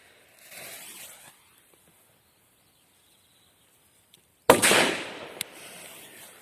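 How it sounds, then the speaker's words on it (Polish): Small PP1 firecrackers set off outdoors: a sharp, close crack followed by a brief hissing burst and a second snap, after a quieter earlier fizz and long silence. "Dobre petardy, zaskoczyły w teście, tym bardziej jak na takie małe petardki."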